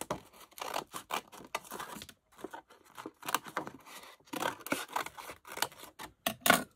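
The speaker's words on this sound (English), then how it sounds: "Let's cut a piece off." Scissors snip a corner off a very glittery double-sided adhesive sheet, a run of close, crisp cuts and rustles with short pauses between them and no talking.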